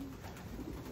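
Racing pigeons coo at their loft, a close, low, throaty coo that fills the brief moment with no voices.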